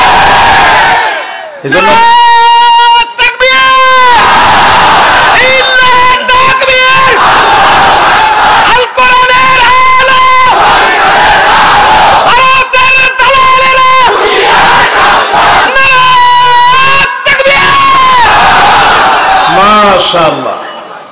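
A large crowd at a religious sermon gathering chants Nara-e-Takbir in loud, repeated call-and-response bursts, with a voice leading between the chants. The shouts are full, sustained and roar close.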